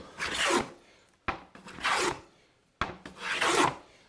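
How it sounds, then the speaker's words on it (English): A hand plane takes full-length shavings off a board in three long rasping strokes, each a sharp start swelling into a sustained hiss before falling away, close and clear with pauses between. "hear those full-length shavings?"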